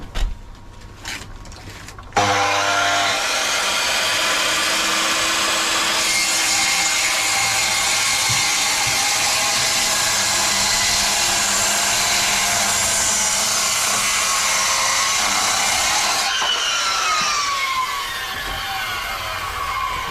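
A powered saw bites into an oak railway sleeper for a pond build, a loud continuous rasping whine that starts abruptly after a brief clatter and runs steadily, thinning slightly near the end.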